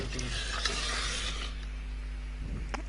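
Chicken pieces being stirred with chili powder, salt and curd in a bowl: a close, wet scraping and squishing for about a second and a half, then quieter faint movement with a light clink near the end.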